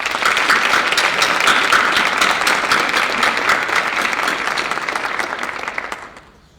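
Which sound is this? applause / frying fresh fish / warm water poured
applause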